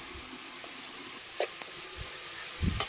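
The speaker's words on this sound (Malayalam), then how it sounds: "നല്ലതുപോലെ ഇളക്കി കൊടുക്കാം." Onions fry with a spoonful of salt in a pan on a traditional hearth stove, giving a continuous soft sizzle and hiss, with a few scraping stirs and clinks close by.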